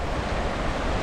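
The Cranberry River flows at a fairly moderate level, making a steady, even broadband rush of water that stays at constant loudness throughout, with no voices.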